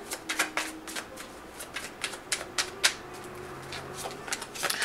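Tarot cards are shuffled and pulled in a rapid run of soft, papery riffling flicks and snaps, close and fairly quiet, with a steady faint hum behind them.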